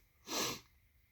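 A single short, breathy sneeze, soft and hissy, rises and fades in under half a second against a quiet background.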